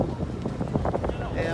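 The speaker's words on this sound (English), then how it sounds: "And it's just unbelievably windy." Strong winter wind at the Jinbu Olympic plaza in Pyeongchang roars steadily and buffets the microphone, producing a constant low rumble with gusty fluctuations and no pauses.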